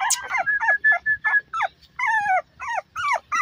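Puppy whimpering and high yipping among a litter of Beagle, Shih Tzu and Pug puppies, a rapid series of short rising and falling cries close by, with brief pauses between them.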